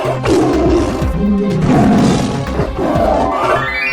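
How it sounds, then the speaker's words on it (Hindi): Large tigers roar loudly and close by, several deep, rumbling roars and growls overlapping in waves with brief pauses between them. "अरे बाप रे, कितने बड़े बड़े तो बाघ हैं।"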